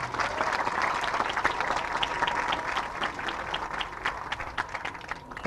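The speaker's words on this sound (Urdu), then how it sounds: "جب تالیاں ختم ہو جائیں تو بتا دینا" Sustained audience applause at an Urdu humorous poetry recital, a dense even wash of clapping from a seated crowd that holds steady before tapering slightly at the end.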